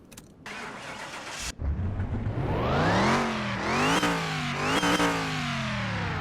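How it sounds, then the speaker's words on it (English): A supercharged car engine in a car mechanic video game starts and revs repeatedly, rising and falling in pitch with a high supercharger whine riding over the roar, loud and close. "you can hear the whine of the supercharger"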